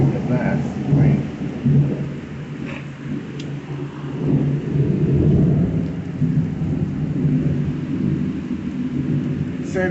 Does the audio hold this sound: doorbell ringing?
no